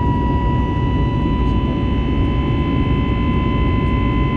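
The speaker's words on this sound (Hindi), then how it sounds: "इंजन का आवाज़ सुनिए ताकत लगाते हुए, अर्थात फ्लाइट और ऊपर जा रही है।" Inside a passenger jet climbing after takeoff, the engines roar steadily and loudly with a deep, constant rumble and a sustained whine, filling the cabin without pause.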